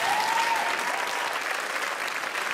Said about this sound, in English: Round of applause for Mum and Dad.